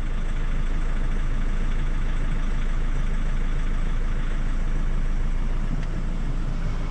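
A Ford Ranger Raptor engine runs after a 185kW DP power chip install, giving a continuous, even idle drone with a strong low rumble that holds steady at the same loudness throughout.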